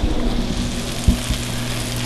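Onions fry and brown in a pot with a steady, close, dense sizzle and crackle that holds an even level throughout, with a brief louder spit near the middle.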